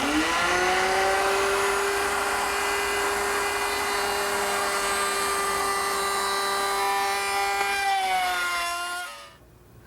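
A router bit cutting grooves in wood, set to a 3/4 inch depth, whines at a steady high pitch for several seconds, then the motor winds down and falls silent near the end.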